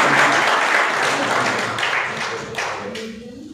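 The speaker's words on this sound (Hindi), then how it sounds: "तो ताली होनी चाहिए भाई।" A seated crowd at an Ayurveda product program in Hapur, Uttar Pradesh, applauds in a dense burst of clapping that tapers slightly, with faint voices underneath.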